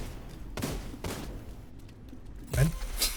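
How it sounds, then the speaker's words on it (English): Video game gunfire: a few sharp bursts of shooting crack out at intervals, with the loudest volley near the end and quieter battle noise between. "Why is still shooting happening?"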